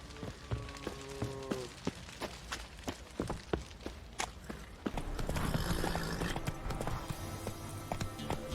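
Roach, a horse in The Witcher 3, clip-clops at a walk with steady, fairly close hoofbeats, and a louder rushing ambience swells in partway through.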